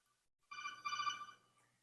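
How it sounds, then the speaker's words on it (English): A telephone rings once with an incoming call, a short, faint electronic ring lasting about a second, alone with no talk. "someone's ringing me. I gotta answer this."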